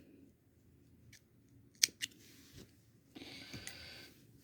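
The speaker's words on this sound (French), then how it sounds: "je prends le ciseau et je coupe." Scissors snip through knitting yarn with two quick crisp cuts close by, followed by faint handling rustle in an otherwise quiet room.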